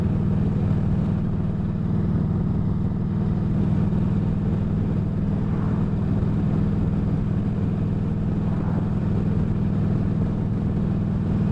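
A Yamaha V Star 1300 motorcycle cruises along, its low engine drone steady and continuous under constant wind rush, with no change in pace and no voices.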